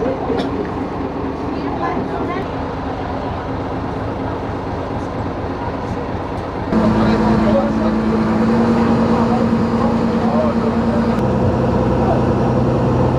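A large motorboat's engine drones steadily during a crossing to Sabtang Island in Batanes, a continuous rumbling hum that grows louder partway through, with wind and water noise and people talking over it.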